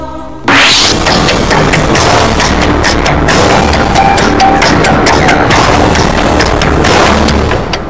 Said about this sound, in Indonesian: Ledakan besar ini berasal dari sebuah truk bermuatan bahan peledak yang terguling saat sedang melakukan pembongkaran